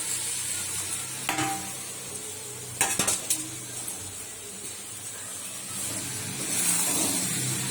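Fried soybeans poured into sizzling fried masala in a pan for a soybean and potato curry, with a steady close sizzle and a few sharp clinks and rattles of utensils against the pan, no voices.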